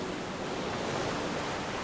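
Ocean waves washing against the coast beside a redwood forest, a constant, fairly loud rush of surf with no distinct breaks or voices.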